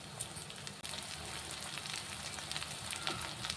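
Curry leaves frying in hot oil in a pan for okra (bendakaya) fry give a steady, dense crackling sizzle that holds evenly throughout, with no voices.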